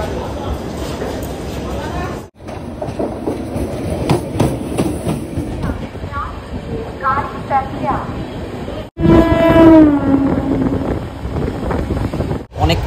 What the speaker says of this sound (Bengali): একেবারে সঠিক সময়ে অর্থাৎ 10টা 5-এই আমাদের দার্জিলিং মেল শিয়ালদা ছেড়ে দিল।